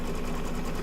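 An embroidery sewing machine stitching fabric, giving off a steady, loud mechanical whir with a fast even rhythm and no pauses across the brief moment.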